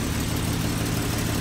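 A 1968 Pontiac Firebird Sprint engine idles with a steady, close low rumble and constant loud vibration, with no talk over it.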